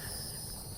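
Insects chirp outdoors at a trail lunch stop, a steady high buzzing drone that stays constant and fairly loud through the brief moment, with no talk.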